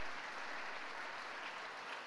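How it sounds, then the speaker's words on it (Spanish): Applause for an assistant team and teachers at a school graduation ceremony, a steady wash of many hands clapping that holds evenly for the whole stretch, fairly distant and soft. "Les pido un gran aplauso para el equipo asistente y profesores y profesoras"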